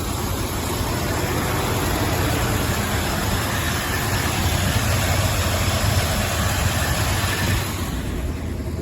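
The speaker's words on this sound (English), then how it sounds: "This truck's been sitting here running for about 15-20 minutes." A Ford F-250 pickup engine idles steadily with a stuck choke, a loud continuous low rumble heard up close that barely changes, then thins slightly in the last second.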